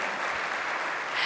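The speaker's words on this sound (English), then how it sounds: "Please, a round of applause for both of them." An audience at a Kerala event applauds steadily, a dense, even patter of many hands clapping at moderate loudness, with no voices standing out.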